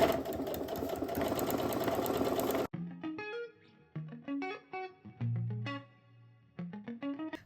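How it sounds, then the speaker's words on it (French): A sewing machine stitches fabric strips for a pouch in a steady, close, loud run for nearly three seconds, then stops abruptly and is followed by a quieter stretch of shifting tonal music. "je vais coudre à 1 cm des bords"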